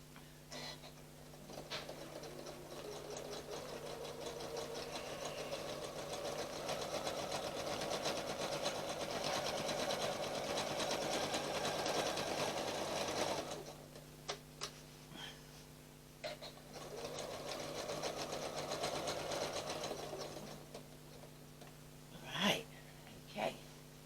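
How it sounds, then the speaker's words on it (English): A sewing machine fitted with a walking foot runs steady top stitching in two long bursts of even, close whirring, with a short pause between them and a few light clicks near the end. "I'm just going to sew as straight as I can to the centre"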